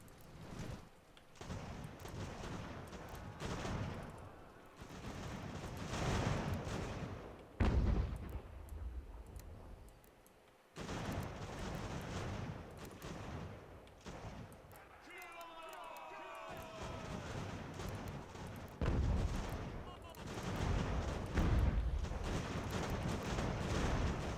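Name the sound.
artillery fire in Ultimate General: American Revolution video game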